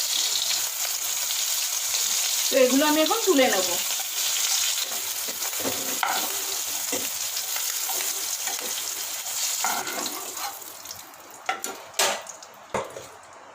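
Spiny gourd (kakrol) pieces frying in oil in a pan, a continuous loud sizzle with a brief spoken comment partway through and sharp spatula or pan clatters toward the end.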